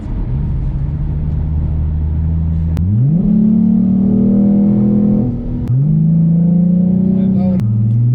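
A Ford Mustang V6 accelerates hard through gear changes, its engine droning loud and close, each rising pull cut by a sharp shift before climbing again.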